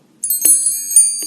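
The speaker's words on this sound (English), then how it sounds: "You can just ring the bell to get all notifications." A bright synthetic notification bell dings twice in quick succession with a third fainter chime, each leaving a sustained metallic ring over a silent background.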